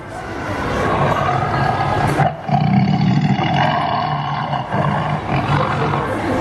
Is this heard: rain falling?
no